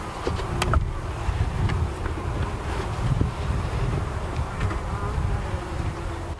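A honeybee colony buzzes steadily and close around an open hive while it is inspected, with many bees droning together. Light wind rumbles faintly underneath, and no one speaks.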